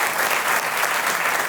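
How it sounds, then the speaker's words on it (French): Comedy club audience applauding, a dense, steady burst of clapping close and loud throughout. "un tonnerre d'applaudissements pour vous, s'il vous plaît"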